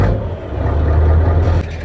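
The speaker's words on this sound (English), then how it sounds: "That's the sound of a V8 first thing in the morning." A Scania truck's V8 engine revs first thing in the morning, a loud, deep, continuous roar that holds steady before dipping near the end.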